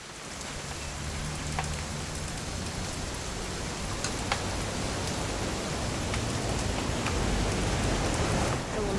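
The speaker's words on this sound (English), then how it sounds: "It's gonna rain the whole weekend" Heavy, constant rain in the video game What Remains of Edith Finch, a dense even roar of drops that swells slightly louder toward the end, with no voices.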